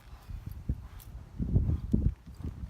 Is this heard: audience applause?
no